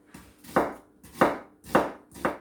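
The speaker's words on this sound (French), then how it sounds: "Maintenant, je vais hacher l'oignon." A knife chops an onion on a cutting board in four crisp, evenly spaced strokes, each a close, sharp thud, with no one speaking.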